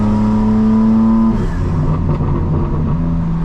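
A 2025 BMW M4 Competition xDrive's exhaust burbles and rumbles loudly from inside the car, holding a steady drone before breaking into uneven crackling pops as the revs drop.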